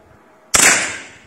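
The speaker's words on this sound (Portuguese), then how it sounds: "Não sei se vai sair esse disparo, hein?" A single sharp shot from a PCP air rifle, an AliExpress model low on pressure, cracks after a moment of quiet and leaves a short hissing decay. It is loud and close, with no talk.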